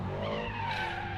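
Car tires skid and squeal loudly while doing donuts at a drift pit, a continuous close screech with engine roar underneath.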